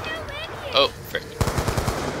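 Rapid gunfire bursts from Black Ops 2 Zombies on the Die Rise map, a quick string of sharp shots arriving after a stretch of quieter game sounds and faint voice.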